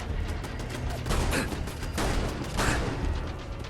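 Rifle gunfire against turrets in the video game Fallout London, with several bursts of shots landing in a dense, busy mix of continuous combat noise.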